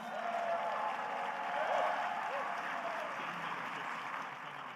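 An audience at a city State of the City address applauds the city commissioners, a steady wash of clapping from a crowd at moderate distance that swells briefly, with a voice faintly audible beneath.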